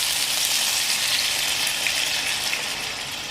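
Chicken feet adobo simmering in a pan right after soy sauce goes in, a steady close broadband sizzle and bubbling hiss that holds evenly throughout and eases slightly at the end.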